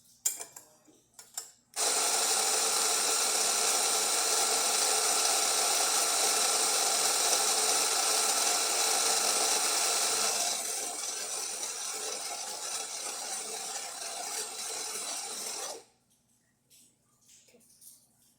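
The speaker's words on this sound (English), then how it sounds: "I'm just going to grind some coffee to show you that it's working now." A Rancilio Rocky coffee grinder grinding beans at a fine espresso setting, a loud continuous whirring burr grind that eases in pitch partway through before the motor cuts off, with faint handling sounds before and after.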